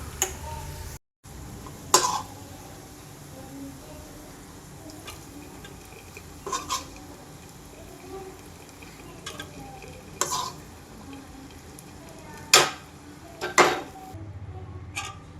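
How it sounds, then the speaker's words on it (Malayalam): Liquid is poured into semolina porridge and stirred in a pan, with a low faint sizzle and soft scraping punctuated by a few sharp utensil clinks against the pan. "നേരെ തരിയിലോട്ട് ഒഴിച്ചു കൊടുക്കാം"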